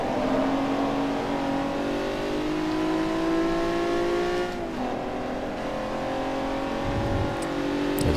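A car engine in Forza Motorsport 3 revs and climbs through the gears steadily, drops off around mid-clip, then hums on at a lower pitch, loud and close with no voices over it.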